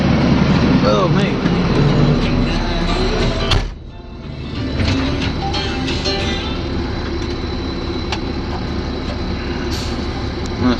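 Truck engine runs steadily while hauling a load of brush, a loud continuous rumble with a brief dip partway through, then a sustained drone with occasional rattles and voices over it.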